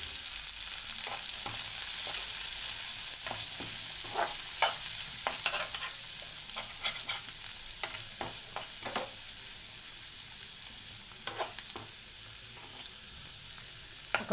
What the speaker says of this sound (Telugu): ఇప్పుడు మనం ఈ ఆయిల్లోనే ఉల్లిపాయ ముక్కలు వేసుకుందాము. ఉల్లిపాయలు వేసుకుంటున్నాను, అలాగే పచ్చిమిర్చి కూడా వేయించుకుంటున్నాను.